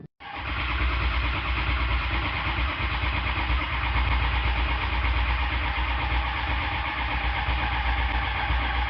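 A Ford 6.0 HEUI diesel engine is heard, close and loud: after a brief silence the sound rises quickly into a steady rumbling run that holds without a break for about eight seconds.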